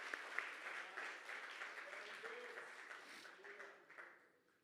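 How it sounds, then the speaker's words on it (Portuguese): A congregation claps for Jesus during a sermon, a soft, diffuse patter of applause that slowly fades out toward the end. "Você pode aplaudir a Jesus por isso?"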